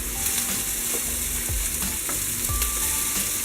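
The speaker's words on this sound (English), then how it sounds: "Now I'm over here stirring up the carrots with the onions." Carrots and onions sizzle in a pan for a coconut curry fish stew, a soft steady frying hiss broken by several scraping stir strokes, no voices.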